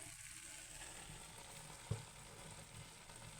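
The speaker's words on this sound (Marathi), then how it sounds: "टाकण्यासाठी ड्रायफ्रुट्स आता आपण तळून घेऊया" Dry fruits fry in about a spoonful of ghee, giving a faint, even sizzle throughout with one soft clink of a utensil.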